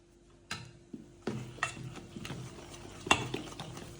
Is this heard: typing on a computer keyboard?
no